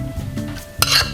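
Butter mixture for French madeleines being beaten in a bowl, soft scraping strokes with a sharp clink of utensil against the bowl near the end.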